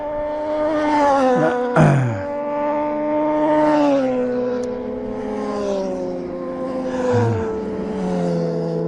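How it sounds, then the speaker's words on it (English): A sport bike passes with a rising and falling engine whine, heard over the steady engine drone of a Ducati 900SS cafe racer being ridden along a road. "Here comes a sport bike, guys."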